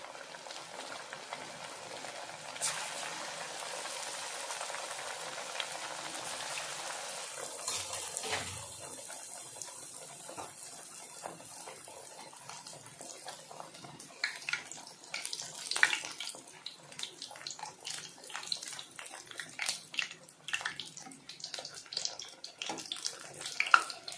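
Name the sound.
puris frying in hot oil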